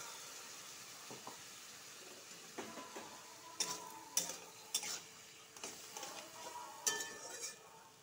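Ground spice paste being stirred as it fries in a pan, made for a brain-and-milk paneer dish, gives soft sizzling with scattered scraping clicks of a spoon against the pan, close and fairly quiet, with no talking.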